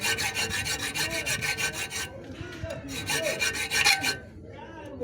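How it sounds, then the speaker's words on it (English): A thread file rasping across a Toyota Hilux axle hub, heard as rapid back-and-forth metal filing strokes in quick rhythmic bursts with a short pause, close and loud, with no talking. "then we shall bring the thread file"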